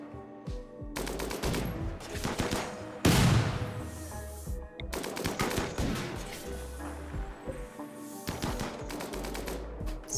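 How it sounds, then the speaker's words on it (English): Rapid automatic gunfire in RimWorld shoots at a creature in repeated dense bursts separated by short pauses, with one heavier blast partway through and no speech. "may as well shoot the thing we can shoot"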